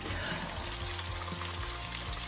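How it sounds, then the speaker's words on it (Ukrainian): Pork fat (salo) renders in a kazan for bograch with a steady dense sizzle and crackle, close and continuous with a low bubbling undertone. "Бачимо, вже сало гарно підтоплюється."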